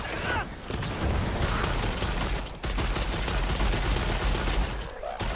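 Enemies fire in Lost Ark, a steady, crowded barrage of overlapping shots with a brief dip in the middle. The gunfire is loud and continuous, with no voices on top.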